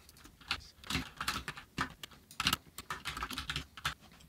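Rapid, uneven clicking of computer keyboard keys as code is typed, with bursts and short pauses, fairly close and quiet, with no talking.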